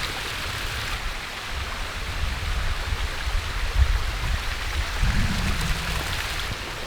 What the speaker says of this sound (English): there's the sound of the water rushing.